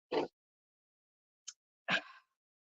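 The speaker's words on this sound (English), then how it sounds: "I'm about to sneeze again" A person with a cold gives a short sneeze, then a faint brief sound and a second, longer sneeze trailing off into an exhale, all close and isolated against silence.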